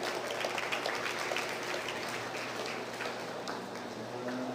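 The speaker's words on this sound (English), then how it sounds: "let's give all the kiddos that were shown in the commercial division a round of applause" A crowd at a market and breeding beef cattle show applauds for the young exhibitors of the commercial division, with brisk, scattered clapping that carries evenly throughout, mixed with murmuring voices.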